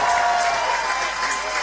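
A crowd applauds at a women's recurve archery gold medal match in Berlin, giving a short burst of steady, fairly distant clapping.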